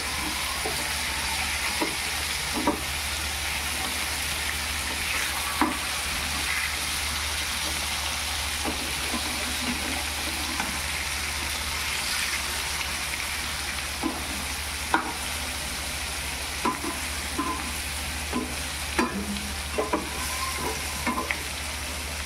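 Fish frying under a lid in a covered pan, giving a steady loud sizzle throughout with occasional small pops and clicks.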